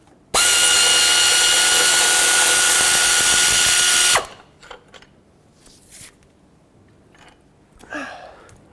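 A tool runs in one loud, continuous burst of about four seconds on a 12mm tensioner bolt of a Toyota Sequoia serpentine belt tensioner, then stops, followed by faint clicks and small metallic handling noises.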